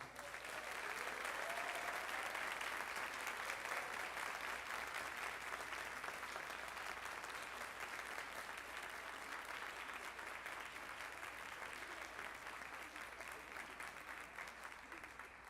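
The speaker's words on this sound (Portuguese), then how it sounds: "eu queria que você aplaudisse o Senhor pela vida do seu pastor." A church congregation breaks into sustained applause during a worship service, a steady dense wash of many hands clapping at even loudness throughout, with faint cheering mixed in.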